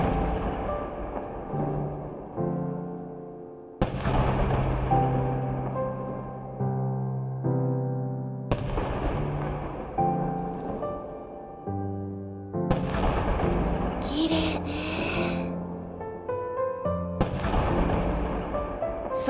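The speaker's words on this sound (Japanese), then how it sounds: "花火が一斉に打ち上げられるの。" Booming fireworks launch together at midnight in the video game Aria the Natural, bursting in repeated waves, each blast ringing out and decaying, with a crackling shimmer partway through; no talking.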